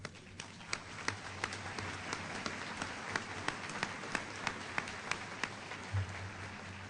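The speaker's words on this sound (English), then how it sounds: "How about a round of applause?" An audience at a Naval Postgraduate School fall graduation ceremony applauds in a large hall, a broad continuous rain of clapping with a few sharper individual claps standing out and a low hum underneath.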